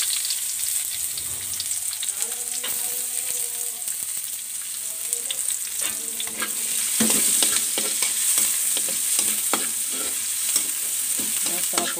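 Onion, garlic and ginger sauté in a pan, a continuous close sizzle that grows louder partway through, with scraping stirs and a soft voice speaking early on.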